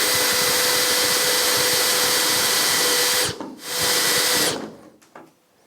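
Power drill boring out old quick-connect fasteners on the tub of a Formula Konig race car, a steady loud whine that cuts out briefly, resumes, then stops.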